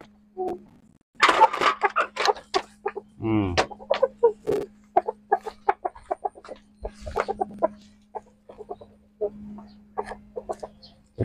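A chicken, held up for treatment of itchy skin, clucks close by in a rapid string of short, irregular calls with brief pauses. A steady low hum runs underneath.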